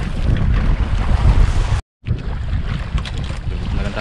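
Rough sea churning around a small fishing boat, loud and close with heavy wind buffeting the microphone, a steady roar of waves broken by a brief dropout midway.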